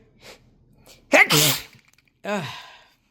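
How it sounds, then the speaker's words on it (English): A single loud sneeze bursts out after a faint breath, followed by a short sniff or exhale, close to the microphone. "I'm going to sneeze"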